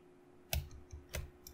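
Two crisp computer mouse clicks land about half a second apart, close and quiet, against a faint electrical hum with a softer tick trailing at the end.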